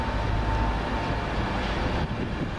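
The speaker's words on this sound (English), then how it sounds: "Virgin Trains East Coast service to London King's Cross." A Virgin Trains East Coast train rumbles through Peterborough station in a broad, steady roar, loud and continuous, with no talk over it.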